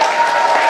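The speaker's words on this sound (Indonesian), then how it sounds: "Bang Effendi Ghazali, tepuk tangan ya." A studio audience at an Indonesian television talk show applauds a guest in a short, loud, dense burst of steady clapping with a faint crowd murmur.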